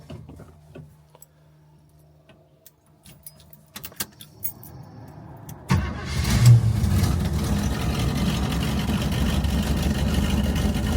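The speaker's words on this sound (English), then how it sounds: "Why don't we give it a little cold start video?" Keys jangle and click in the ignition of a 1973 Chevrolet Nova before its cold engine cranks and catches, settling into a loud, rough, rumbling idle close by.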